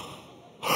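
Members of a women's revival meeting audience draw a sudden, sharp breath together, a breathy gasp that swells and holds loud after a quieter hiss of room air.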